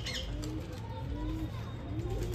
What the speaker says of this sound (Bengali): দাদা একটা পায়রা দেখাচ্ছে জর্ছা কালসিরা।